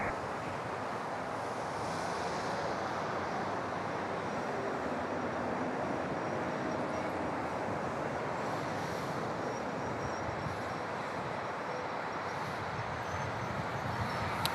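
A United airliner takes off from runway 4 at LaGuardia in New York, a steady, broad engine roar blended with wind noise that holds unbroken and loud for the whole stretch, with no talk over it.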